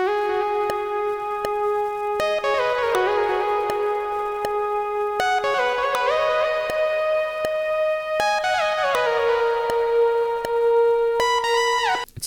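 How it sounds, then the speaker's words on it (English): A filtered saw-and-square synth lead from TAL-U-NO-LX gliding between notes with portamento and trailing delay, a slow melodic line over a steady backing with regular clicks, loud and upfront with no voices. "It's a saw and square wave inside Tal Uno LX, and that's filtered down a bit."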